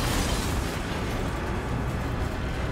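Cannon blast in the Resident Evil 4 Remake video game: a loud, dense, rumbling explosion that fills the whole moment and decays slowly, with no voices over it.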